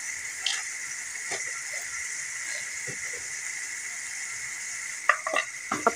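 Spices sizzle steadily in a pan for chicken karahi, a continuous bright hiss of frying with occasional clinks and scrapes of stirring, louder spatters near the end, no talk.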